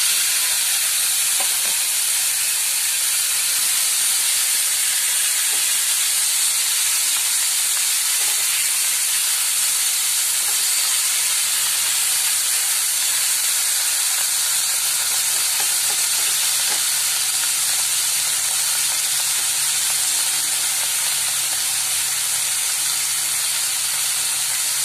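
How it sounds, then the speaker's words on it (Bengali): Prawns fry in hot mustard oil with a steady, loud, close hiss and sizzle that holds without a break the whole time. "সর্ষের তেল দিয়ে দিলাম, চিংড়ি মাছগুলো ভেজে নেব।"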